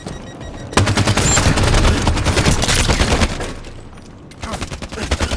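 Rapid automatic gunfire in a Halo 5 Slayer match, loud and sustained in dense bursts that briefly ease off before firing resumes.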